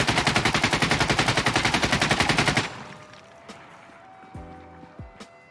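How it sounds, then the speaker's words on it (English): An AKS-74U rifle fitted with a foregrip fires in Insurgency: Sandstorm, a rapid, even burst of loud automatic shots for nearly three seconds, then a few lighter mechanical clicks and handling noises. "So here we are, AKS-74U with a foregrip."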